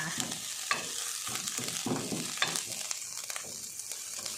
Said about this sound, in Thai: ผัดเครื่องแกงกับกะทิให้หอมนะคะ